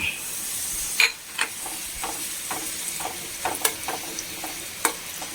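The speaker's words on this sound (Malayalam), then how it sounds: "അത് നമ്മൾ പപ്പടത്തിനെ ഇട്ട് വറുത്തെടുക്കാം" Papadum pieces crackle and hiss in hot oil, with scattered sharp pops and occasional scraping of a spoon over a soft sizzle.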